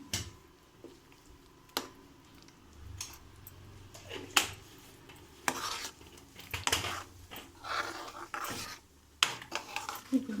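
A spoon scraping and clinking in a pan as chili powder is stirred into paneer curry, intermittent knocks and scrapes with soft mixing noise between, fairly close and without talk.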